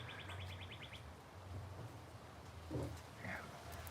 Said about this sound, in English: Major bird action today.